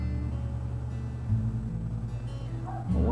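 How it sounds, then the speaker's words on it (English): A dog barks outdoors, muffled and fairly distant, with a short burst near the end over a steady low indoor hum. "Y'all excuse the dog out there."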